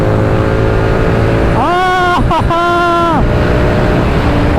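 A motorcycle fitted with a Red Rooster exhaust launching from a standstill: a loud engine whine climbs in pitch, breaks briefly at a gear change, then climbs again before settling back to a steady drone.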